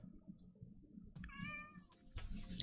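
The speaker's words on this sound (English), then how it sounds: "my little kitty who's sitting next to me and calling me out" A pet cat meows beside a person working at a computer, with a short harmonic call near the middle and another at the end, both close and fairly clear over low room hum.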